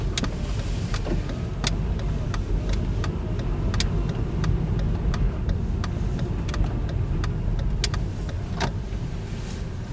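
Inside a manual-transmission car, the engine revs as the clutch comes up and the vehicle pulls away from a stop, with steady road rumble and scattered clicks and rattles from the cabin.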